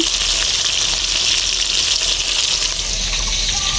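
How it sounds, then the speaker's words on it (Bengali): Chicken pieces fry in a karahi with a loud, steady hiss and crackle of hot oil that runs unbroken throughout, with no voices. "এই যে হচ্ছে মুরগি আর ভাজার জন্য কড়াইতে দিছি"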